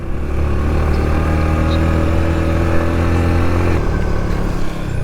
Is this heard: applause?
no